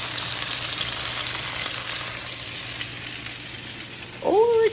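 Chicken fries in a pan with a steady, close sizzle and crackle that continues throughout. A voice briefly breaks in near the end.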